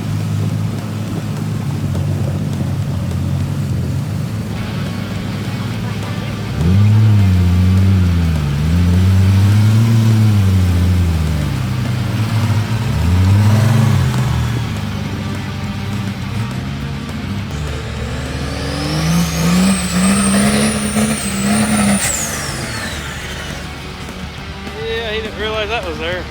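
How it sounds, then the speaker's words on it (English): Extra-wide monster truck engine revving while crossing water, rising and falling engine tones that surge in repeated waves, loud and close, with a higher whine late on. "We took it out back across the water crossing and played a little bit, which you'll see here."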